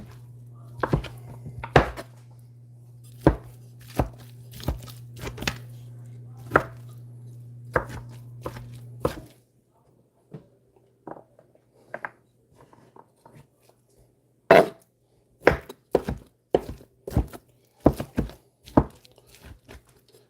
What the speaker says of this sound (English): we're just gonna chop it into some smaller portions